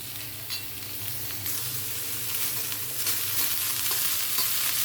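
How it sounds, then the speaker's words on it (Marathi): Onions frying in a pan until reddish brown for a kat vada usal, a close, continuous sizzle that grows slightly louder and denser partway through, with no talking. "कांदा चांगला लालसर भाजून घ्यायचा आहे."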